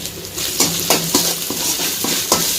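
Ginger, garlic and three chillies fry in a pan for a cauliflower gravy, a close, steady sizzle punctuated by regular scrapes and clinks of a spatula stirring against the metal.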